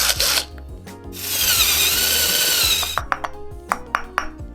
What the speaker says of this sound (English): let's go ahead and drill it real quick